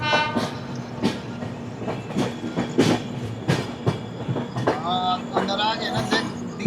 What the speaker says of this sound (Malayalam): നമ്മുടെ ട്രെയിൻ അങ്ങനെ നാഗ്പൂരിന് പ്ലാറ്റ്ഫോം നമ്പർ 1 പ്രവേശിക്കുന്നു.